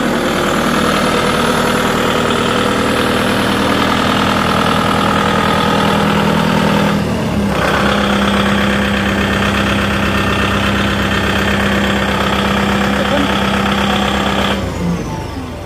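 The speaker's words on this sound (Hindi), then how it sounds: "वाइब्रेशन टेस्ट दे सकते हैं आप लोग, बिल्कुल कोई वाइब्रेशन नहीं है।" Kubota MU5501 tractor diesel engine idling steadily during a vibration test: a loud, even, close-up drone with a constant throb that dips briefly midway and near the end, with no talking.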